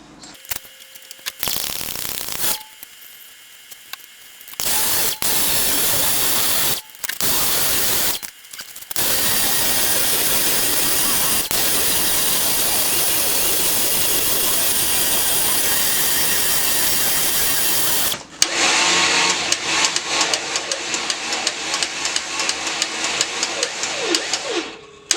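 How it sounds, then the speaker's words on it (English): Smittybilt XRC winch spooling in synthetic line, a loud steady motor whine running continuously with brief pauses early on, then a harsher, rougher drone near the end. "now we're just going to spool in our winch"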